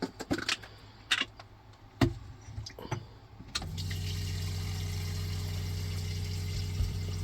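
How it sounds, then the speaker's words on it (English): Faint clicks and clatter give way to a steady, rising rumbling hiss as water heats and begins to boil in an electric kettle, continuous and close. "That's the kettle boiling."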